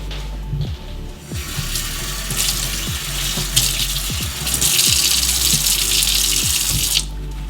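A kitchen tap runs steadily to wet a tea towel, the water gushing loud and close into the sink with shifting splashes, then shuts off near the end.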